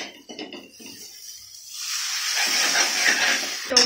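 Tamarind water poured into a hot pot for fish curry sets off a sudden loud hiss and sizzle that builds and holds for a couple of seconds, preceded by a few soft kitchen clinks.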